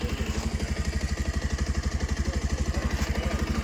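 A Bajaj Pulsar motorcycle engine idles steadily after repair of a barometric pressure circuit fault, its loud, even, rapid thumping close up and alone.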